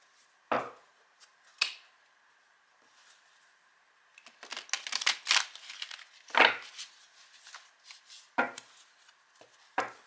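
Tarot cards shuffled in a few sharp bursts, with scattered single card snaps and then a denser flurry of riffling in the middle, close and fairly quiet, no talking.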